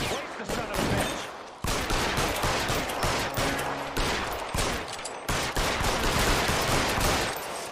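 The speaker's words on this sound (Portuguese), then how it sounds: "O cara toma 30 mil tiros e não morre." Sustained heavy gunfire in the crime detective video game L.A. Noire, dense overlapping bursts of shots continuing nearly without pause, loud and close throughout.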